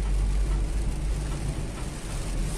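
Heavy monsoon rain heard from inside a car on the Tamhini Ghat road, a dense continuous wash of rain noise over a deep low rumble of the moving vehicle, loud and unbroken, with no talk.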